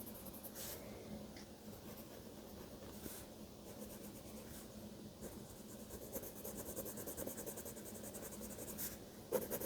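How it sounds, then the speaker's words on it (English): A freshly sharpened pencil scratches across paper while drawing a cozy cabin and sleepy pup for a Christmas series, giving close, continuous soft scratching with short strokes and brief pauses, no voices. "I'm going to do a little bit over here right now while the pencil is nice and sharp."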